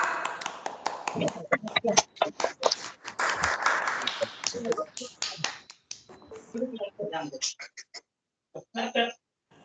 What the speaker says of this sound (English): Once we all clap for Ida.